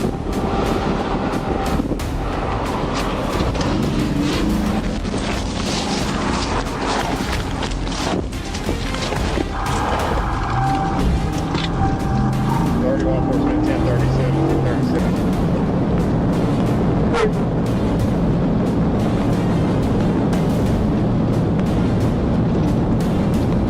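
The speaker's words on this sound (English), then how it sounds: "the driver unexpectedly accelerated, sparking a high-speed pursuit" A car accelerates away hard at high speed during a police chase, a loud, steady roar of engine and road noise with wind buffeting the microphone, continuous and close throughout.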